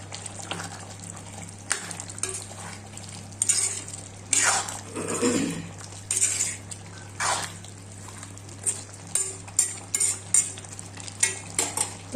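Garam masala paste being stirred into a chickpea curry in a pan, a spoon scraping and clinking in irregular bursts over a soft steady hum, close and moderately loud.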